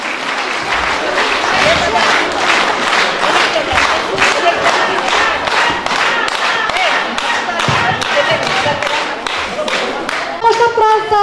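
An audience at a long hair contest claps along in a steady rhythmic beat, loud and sustained, with crowd voices and a speaker talking over the pulse toward the end.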